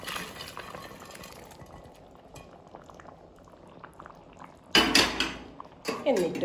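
Fried chicken pieces tipped into a pot of cooked biryani masala: a bubbling simmer at first, then a loud clatter and splash of pieces dropping into the pot, followed by scraping and stirring against metal.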